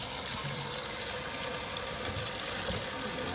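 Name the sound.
cool tap water running into a strainer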